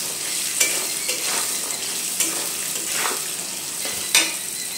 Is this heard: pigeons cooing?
no